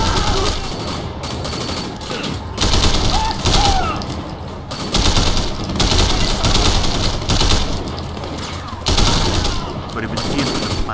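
Machine pistol gunfire in Sleeping Dogs, with several loud, rapid bursts of automatic fire separated by short pauses, mixed with game action noise and occasional talk.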